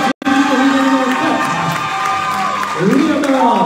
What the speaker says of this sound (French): Et vous l'applaudissez, s'il vous plaît.